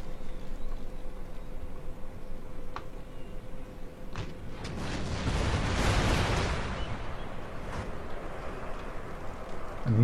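Cannons fire at a burning wall in a video game battle. Deep booms and rumbling crashes overlap, swelling into a dense roar in the middle of the stretch, with scattered sharp impacts.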